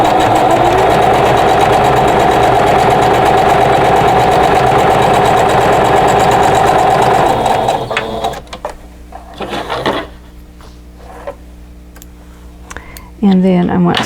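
Quilt block pieces for a sailboat block run through a sewing machine in one loud, continuous, close whirring stretch of about seven seconds before it stops, leaving scattered handling noises and a short bit of speech.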